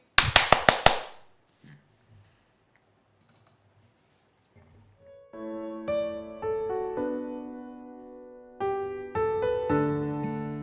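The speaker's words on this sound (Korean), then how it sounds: "박수 한번 치고 마치도록 할게요." A handful of sharp hand claps ring out at the close of a stock investment lecture and quickly die away, followed by a pause and then a sung pop song with music.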